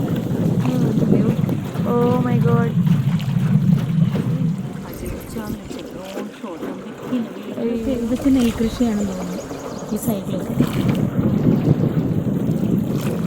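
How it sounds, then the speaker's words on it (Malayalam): Strong wind gusts buffet the microphone outdoors beside rice paddies in Vietnam, a loud continuous rumbling roar under people talking excitedly. "നല്ല കാറ്റും."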